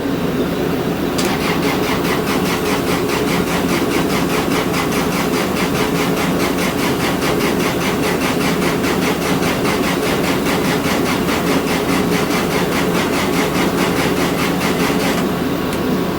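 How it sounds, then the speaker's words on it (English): Baker edger engine running steadily at a sawmill during a white oak livesawing session, a loud, continuous mid-pitched drone with a fine rapid pulse, holding even throughout. "Well, we got the edger started."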